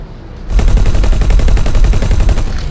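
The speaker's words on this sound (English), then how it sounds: "where's that turret that was shooting at me?" A turret fires in the space game X4: Foundations, a loud, rapid stream of evenly spaced shots that rattles on without pause after a brief quieter lead-in.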